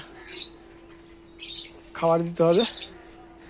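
Pet birds in a cage on a rooftop garden give short, high chirps and squawks in brief bursts, fairly faint, while a person talks over them.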